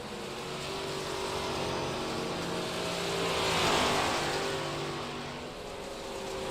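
Race cars driving in a racing video game, engines droning and rising as a car sweeps past in a swell of revving noise, then easing back, with no talking.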